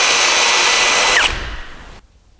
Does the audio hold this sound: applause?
no